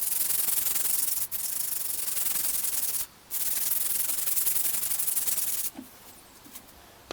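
Steady, loud, continuous hand-sanding with loose emery cloth on car bodywork for a Peugeot 206 rally car, a dry rasping rub broken by a few brief pauses and tapering off near the end.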